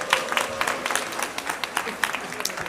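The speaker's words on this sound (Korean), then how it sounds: "다시 한번 큰 박수 부탁드립니다." Congregation applauding after a children's Sunday school Christmas performance at a Korean Methodist church service, a steady patter of many hands, moderately loud and continuous throughout.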